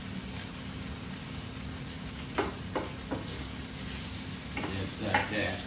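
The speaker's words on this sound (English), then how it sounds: "Let it saute up nice and good." Tomato sautéing in a Power XL electric cooker while making pork sinigang, a steady low sizzle with a few sharp scraping stirs of a utensil near the middle and end.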